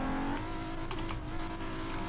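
A Nissan 370Z engine revs steadily and loudly throughout, with a sustained droning tone that shifts pitch slightly, heard close and continuous in a garage setting.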